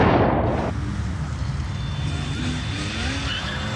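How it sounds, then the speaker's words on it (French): A black car speeds away from a police car in Paris, a loud burst of skidding tires and engine roar that settles into a steady rushing noise. "La voiture noire repart en trombe."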